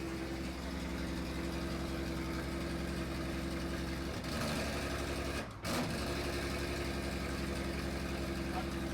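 A street car's 8.6 engine idles steadily with a low, even rumble, briefly dipping once before settling back into the same drone.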